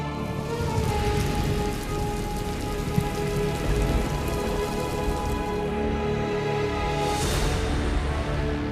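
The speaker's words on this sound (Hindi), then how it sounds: "क्या है तेहरान में काली बारिश का पूरा सच?" Heavy black rain pours over Tehran, a dense roaring wash of drops pattering on surfaces, loud and continuous with faint rumbling beneath and no voices.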